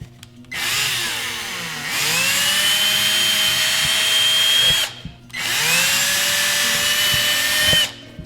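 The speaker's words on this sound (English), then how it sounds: "So I'm just going to take a drill" Power drill punching a hole through an antler mounting kit plate, two long whining bursts of steady high-pitched motor drone with rising spin-up tones, loud and close, separated by a brief pause.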